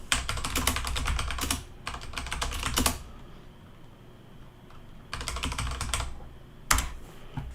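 Computer keyboard typing a search: rapid bursts of clicky keystrokes in several runs, close and fairly loud, separated by brief quiet pauses, with no talking.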